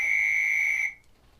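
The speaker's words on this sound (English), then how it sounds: "I apologize every time I hit the buzzer" A buzzer is struck once, giving a loud, steady electronic tone that holds for under a second and then cuts off abruptly into near silence.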